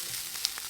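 Onions sautéing in a pan give a soft, steady sizzle, faint and close, with a brief tick partway through; no voices.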